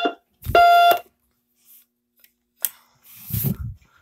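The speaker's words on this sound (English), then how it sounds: "It's my alarm." A short electronic alarm tone sounds once, a bright steady beep lasting about half a second, followed by quiet gaps and a few soft rustling and handling noises.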